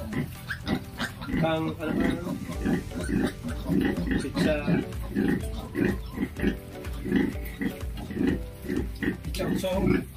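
Pigs at a piggery grunt and oink repeatedly in short bursts, close and loud, with a voice talking over them.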